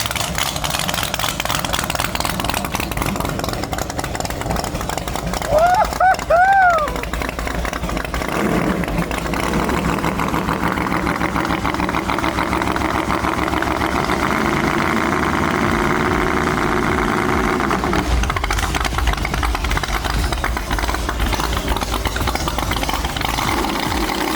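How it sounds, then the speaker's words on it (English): The Monster Mullet car's engine idles with a steady low rumble throughout, a brief higher whine rising and falling midway, heard close with no talking. "Just listen to that motor. Purr."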